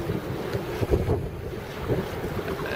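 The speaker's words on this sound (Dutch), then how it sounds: "het waait behoorlijk" Strong wind buffets the microphone at a classic boat show in an Enkhuizen harbour, a continuous blustery roar with gusty swells and splashing water close by, with no voices heard.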